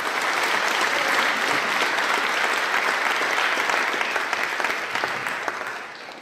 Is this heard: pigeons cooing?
no